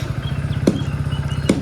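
A motorcycle engine idles steadily with a low, even throb as the bike is readied for a ride to the farm. Two sharp clicks cut through it about a second apart.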